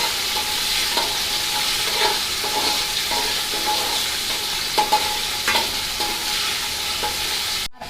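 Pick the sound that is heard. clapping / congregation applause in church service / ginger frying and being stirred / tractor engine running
ginger frying and being stirred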